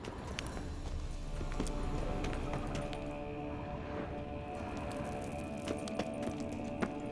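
Horse hooves from The Witcher 3 video game clip-clop in an irregular walking rhythm, fairly faint, over a soft steady background hum.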